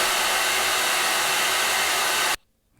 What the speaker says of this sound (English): as you expect, a hairdryer.